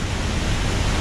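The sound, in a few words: Stassal Falls waterfall roaring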